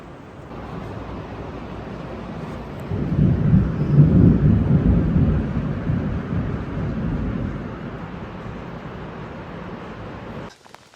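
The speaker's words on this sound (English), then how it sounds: "It's pretty severe thunder and lightning right now." Deep rumbling thunder from a severe storm over a mountain ridge swells from a low background roar into a long, heavy peal and slowly fades, with wind-like noise throughout.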